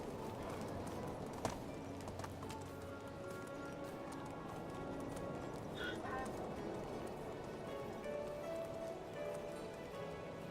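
A horse's hooves clip-clop steadily through the open countryside of the Medieval Dynasty video game, a continuous rhythmic trot under ambient rain-like patter and occasional bird calls.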